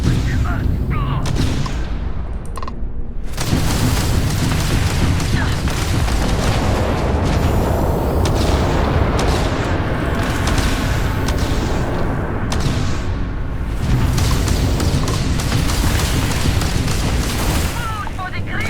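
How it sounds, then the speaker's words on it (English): Ship turrets fire in Starfield space combat aboard a modded Class C battle cruiser, a near-continuous barrage of loud booming blasts and rapid gunfire rolling through the whole stretch, with a brief lull early on and a voice talking under the action. "see if our turrets are also working"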